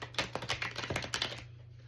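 A deck of tarot cards is shuffled close by, a quick, quiet run of soft riffling clicks lasting about a second and a half before it stops.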